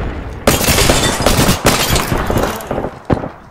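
Arc Star grenade in Apex Legends, a sharp crackling electric burst followed by loud repeated gunfire and impacts, close and dense.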